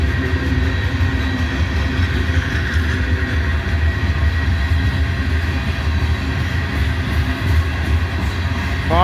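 Freight train rolling past on the former Atlantic Coast Line right of way near Abbeville and Mount Carmel, a loud, steady, close rumble of wagons and wheels holding evenly throughout with no voices.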